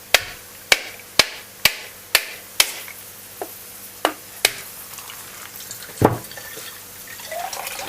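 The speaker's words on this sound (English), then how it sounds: "Now with the coconut, this is a hammer." A series of sharp, evenly spaced hammer strikes on a coconut shell, about a dozen knocks, then a louder crack and faint trickling afterward.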